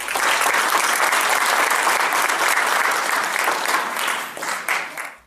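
Sustained applause from a crowd, a dense steady clatter of many hands clapping that stays loud throughout and tapers off slightly toward the end.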